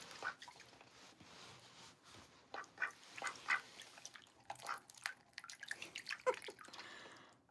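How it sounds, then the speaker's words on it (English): A pet duck eats grapes, with soft wet dabbling, smacking bill clicks and drip-like splashes coming in uneven bursts, close and moderately loud, with no speech. "It's my duck, Olivia Gray. She's super cute. Enjoying her grapes right now"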